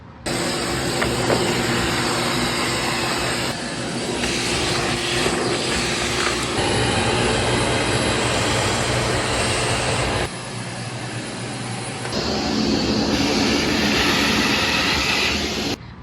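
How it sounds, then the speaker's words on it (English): Loud continuous vacuum cleaner roar, its pitch and intensity shifting in several blocks as it moves around, with occasional thumps and no speech. "now I'm just gonna vacuum the floors and the corners."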